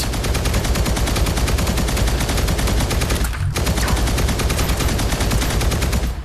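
Sustained rapid machine gun fire from the VR shooter Guardians Frontline, loud and close, in a continuous stream with one brief pause midway.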